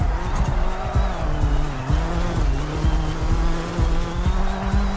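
An all-wheel drive car being driven at speed, engine drone steady and close with repeated short tire squeals and skids throughout, the motor note rising and falling continuously.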